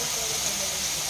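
Cauliflower hitting a hot pan for a Bengali vegetable sabji sends up a loud, continuous sizzling hiss that holds steady for the whole second.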